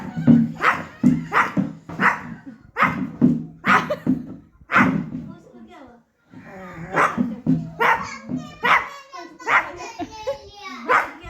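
A small child imitates a dog barking, producing a run of short, loud, rhythmic woof-like yelps, pausing briefly before continuing with more playful vocal sounds.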